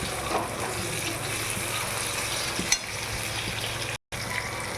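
Tomatoes fry in a pan with an even, continuous sizzle that holds steady throughout and breaks briefly near the end, with no talking.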